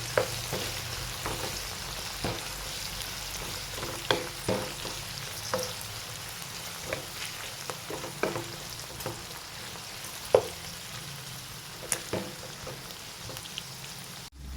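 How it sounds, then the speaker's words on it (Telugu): Okra pieces frying in oil on a medium flame make a steady crackling sizzle, with scattered pops and spatula scrapes as the pieces are stirred. "బెండకాయలు అనేవి ఆయిల్లో బాగా ఫ్రై అవ్వాలండి. కాస్త మీడియం ఫ్లేమ్లోనే పెట్టుకొని ఫ్రై చేసుకోండి."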